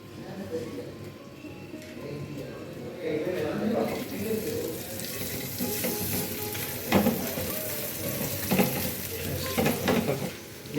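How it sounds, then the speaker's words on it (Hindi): Onion sautéing lightly in hot oil, a moderate sizzle with intermittent stirring clatter and some watery splashing, partly under a person talking. "ऑयल में मैंने ये प्याज हल्का सा सौते करना है"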